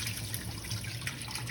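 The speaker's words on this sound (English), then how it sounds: "And then just dump the water." Water being poured off boiled noodles into a sink, a steady close splashing gush that runs without a break, no talking over it.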